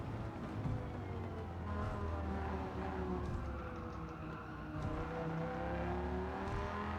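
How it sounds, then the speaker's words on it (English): A Dodge Viper GTS with a big V8, driven on Tokyo Expressway in Gran Turismo 7, revs hard with a deep rising engine note that climbs through the gears, loud and continuous. "Using the low down grunt available with this big V8 monster."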